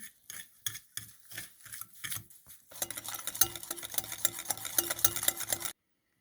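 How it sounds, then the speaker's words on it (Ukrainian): A whisk beats one egg, 50 grams of sugar and 100 grams of room-temperature butter in a bowl, first in separate rhythmic taps, then as a quicker, steady scraping whir that stops abruptly. "Вбиваємо одне яйце, 50 грамів цукру і 100 грамів масла кімнатної температури. І підбиваємо вінчиком."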